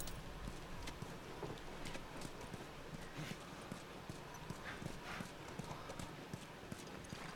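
Steady clip-clop of horse hooves trotting at a regular rhythm, close by, over a low ambient background, with a faint whinny mixed in, in the video game The Last of Us.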